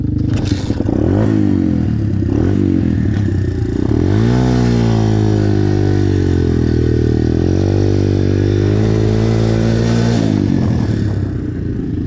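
Dirt bikes, a Raptor 250 and a KXD 125, racing: loud close engines revving and accelerating with rising and falling pitch, overlapping drones and scraping clatter throughout.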